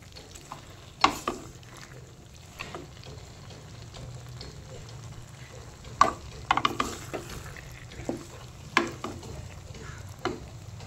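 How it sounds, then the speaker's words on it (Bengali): Shrimp with Malabar spinach fries in a pan while a spatula stirs it, a low steady sizzle broken by scattered scraping knocks, fairly quiet and close. "যে চিংড়ি মাছগুলো সব দিয়ে দিয়েছি, এবার একটু নেড়ে চেড়ে নামিয়ে নেব।"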